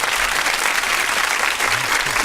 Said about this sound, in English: we got to give her a hand clap